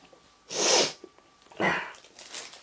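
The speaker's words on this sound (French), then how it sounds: "Excusez-moi. Pour petit reniflement." Two short, breathy nasal bursts about a second apart, close and fairly loud, like a sniffle or snort, with quieter breath noise afterward.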